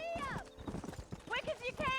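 In the Red Dead Redemption video game, hooves clip-clop rapidly at a gallop, close and brisk, while voices speak over them and a horse whinnies.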